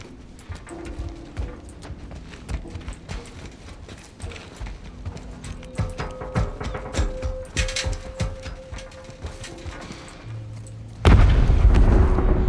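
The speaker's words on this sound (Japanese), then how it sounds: "あの爆発" Busy game sound effects and clopping in The Last of Us Part I give way to a sudden loud, deep explosion that rumbles on to the end.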